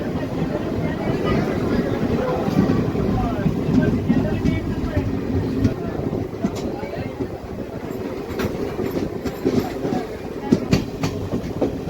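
The Nanded–Adilabad Intercity Express running on rails in heavy rain in Maharashtra, a steady loud rumble with rhythmic clickety-clack of wheels over rail joints throughout.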